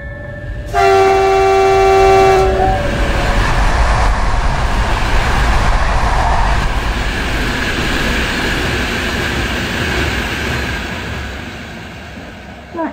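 A train passing at about 145 km/h blares its horn loudly for about two seconds, then its heavy rumble continues close by for the rest of the clip.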